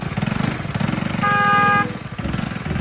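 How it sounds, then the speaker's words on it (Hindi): A car horn gives one sustained honk at a rickshaw on a busy street, sounding over the steady putter of a nearby motorcycle or auto engine. "अब देखना, इस रिक्शे वाले को एक हॉर्न दूंगा, फौरन साइड पे हो जाएगा।"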